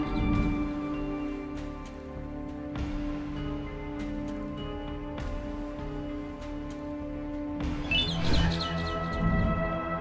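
Birds chirp in Garten of Banban 6, sharp tweets that come in short bursts over a low, sustained tonal hum, with a denser flurry of calls near the end.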